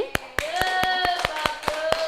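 A few people in a microteaching classroom clap for a group's correct answer, giving about nine sharp, evenly spaced claps, moderately close, over a steady tonal hum, with faint voices in the background.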